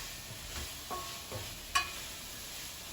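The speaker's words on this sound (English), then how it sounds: "You just want to sweat the onions." Onions sweating in a pan with a little salt give a soft, low sizzle, broken by a few light stirring scrapes and one sharper clink of a utensil.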